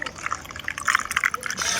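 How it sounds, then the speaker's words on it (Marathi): Water is poured into a container, making a splashy, uneven trickle and gurgle as it fills, with a voice in the background. "मी आता पाणी टाकेल"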